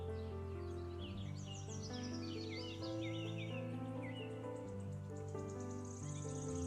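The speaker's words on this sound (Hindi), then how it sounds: "पक्षियों की आवाजें" Birdsong fills a green forest, with several chirping and warbling calls over a steady insect and cricket drone, set against soft sustained background music throughout.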